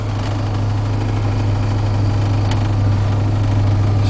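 A 1977 Chevrolet Blazer's 350 V8 with a Holley 600 CFM carburetor, manual choke and straight-piped Flowtech headers idles right after a cold start, a loud, steady, deep rumbling drone heard up close with no voices.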